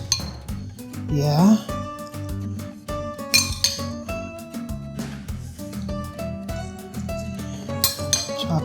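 Chopped tomatoes go into a chicken taco salad with cold corn, marked by repeated bright clinks and taps of a utensil against a bowl, with a brief voice in between.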